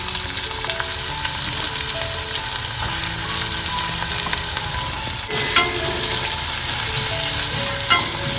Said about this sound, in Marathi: कढईमध्ये तेल तापत ठेवला होता कांदा घालतोय